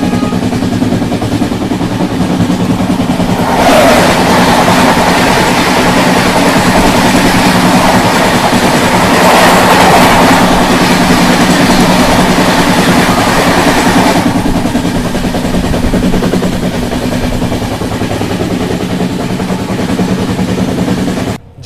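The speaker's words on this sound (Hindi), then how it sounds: "अभी सामने से आ रही है न्यू टिनसुकिया अमृतसर एक्सप्रेस" The New Tinsukia–Amritsar Express passes close by at speed, a loud rumbling rush with rail clatter that swells and stays heavy for about twenty seconds, heard from aboard another train.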